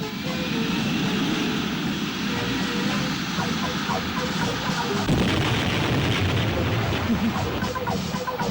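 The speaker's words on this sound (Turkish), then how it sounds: "Avcı uçaklara alçak uçuş!" Low, rumbling roar of low-flying fighter jets passing close overhead, swelling louder midway, with heavy booming underneath.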